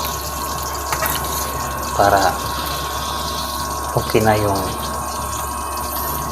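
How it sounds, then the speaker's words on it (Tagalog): Water runs steadily from a tap or pump into a pot of sinigang soup, a constant gushing hiss, while a person speaks briefly twice over it. "Kisahin mo na bago maglagay ng kunting tubig"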